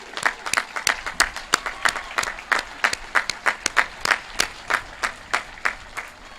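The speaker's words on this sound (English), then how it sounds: "join me in a round of applause for thanking this group." A graduation ceremony crowd applauds in rhythmic, fairly synchronized claps, a steady pulse of loud beats sustained throughout with little talk.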